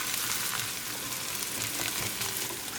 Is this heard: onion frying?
yes